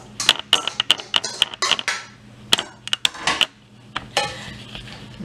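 Pasta being tipped into a bowl for a crab and shrimp pasta salad, heard as a run of sharp clinks and clatters, close and fairly loud, in irregular bursts with short pauses between.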